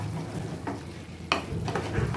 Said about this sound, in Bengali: এবারও আমি ভালো করে কষে নেব যতক্ষণ না ভালো করে কষা হয়ে যায়।